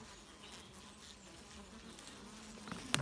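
Native honey bees buzz steadily at a hive with swollen, drawn-out comb, a low continuous drone held at an even level throughout, with a brief louder rustle near the end.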